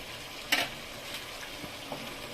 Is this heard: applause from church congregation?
no